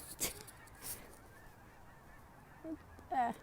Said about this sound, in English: The geese are making a hell of a racket as they get their feathery little butts out of here.